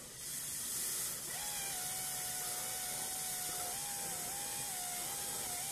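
Compressed air from an air compressor nozzle drives a small turbine, giving a steady, close, broadband hiss with a thin whine that rises and wavers as the turbine spins up; no talking.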